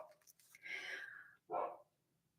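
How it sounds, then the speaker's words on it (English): A dog barks twice indoors, a short yelp followed by a louder, fuller bark a moment later, with quiet room tone between. "Pardon my dog."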